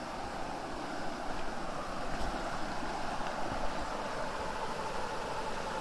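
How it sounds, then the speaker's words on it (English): A small waterfall flowing by a bridge near a little pond makes a steady, soft rushing wash of water, fairly faint and continuous with no talk. "Ah, so he's brought me to the waterfall."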